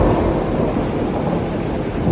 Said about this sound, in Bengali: বাইরে বৃষ্টি আবার জোরে পড়তে শুরু করেছে।